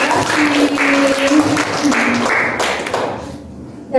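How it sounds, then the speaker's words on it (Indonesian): Applause for a poetry performer at an online youth event, a spread of clapping under a continuous talking voice that fades near the end. "beri tepuk tangan yang meriah"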